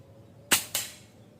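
Air rifle fired through a Neo GNT 2.0 suppressor, a sharp muffled pop followed by a second softer crack a moment later, close and alone.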